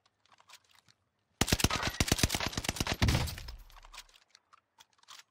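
Marco SMG firing in Warzone, a sudden rapid burst of about a dozen sharp cracking shots, then a heavier thump and a fading rumble, with faint clicks before and after.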